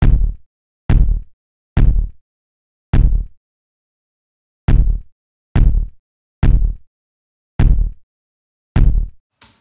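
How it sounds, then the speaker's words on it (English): Kick drum sample pattern with no other instruments, ten punchy low thumps in an uneven rhythm with short gaps, each decaying quickly, loud and dry. "the kick drum pattern sounds like this."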